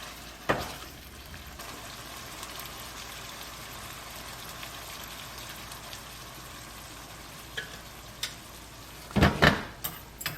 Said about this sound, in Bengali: এখানে অল্প জিরে আর একটু মৌরি আছে, এটাকে আমি রোস্ট করব, ড্রাই রোস্ট করব